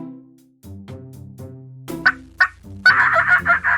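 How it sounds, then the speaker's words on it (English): A turkey on a farm gobbles in a loud, close, rapid burst of warbling calls, preceded by a few lower clucking notes, with nothing else audible. "Turkey."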